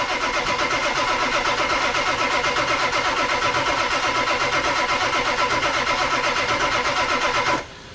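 A Ford 7.3 Powerstroke diesel in an abandoned Super Duty cranks on its starter without firing, a loud, steady, fast rhythmic churning that runs for over seven seconds before cutting off abruptly.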